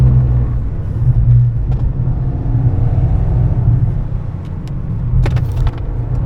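A 2025 Toyota GR Yaris automatic runs on the Nürburgring Nordschleife, its engine a steady, heavy in-cabin drone and rumble with a few faint clicks and rattles.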